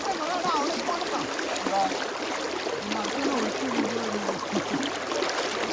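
Stream water flowing from Kakkayam rushes steadily and broadband, a continuous wash with faint splashes, while people's voices talk over it close by.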